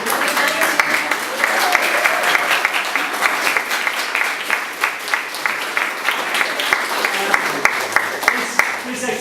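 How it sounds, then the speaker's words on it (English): Audience at an art exhibition retrospective giving sustained applause, a steady wash of many hands clapping at close range, with a few sharper individual claps standing out throughout. "we should definitely give a big round of applause to Anthony Costing,"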